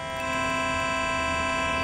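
A steady electronic tone pair forming a major third in Pythagorean tuning, rich in evenly spaced harmonics, fading in quickly and then held loud and unchanging for nearly two seconds with no talking.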